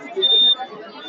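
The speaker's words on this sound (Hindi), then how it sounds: "अगर इसमें एक कोई भी रुकावट करता है तो अलार्म बजेगा।" A school student's laser security model sounds its alarm, a brief steady high electronic tone lasting about a third of a second with people talking around it.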